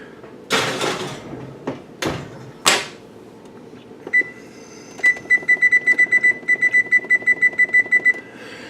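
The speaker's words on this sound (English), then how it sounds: "I have put the timer on for 20 minutes" A kitchen timer on an oven being set: a few clicks and knocks first, then a rapid run of bright electronic beeps, close and fairly clear in a quiet kitchen.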